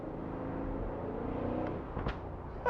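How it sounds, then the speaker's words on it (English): A 2021 Aston Martin V8 Vantage Roadster's engine drones at steady revs, then gives a couple of short sharp blips near the end, heard close with no talking. "It is addictive, the noise of this car, it really is."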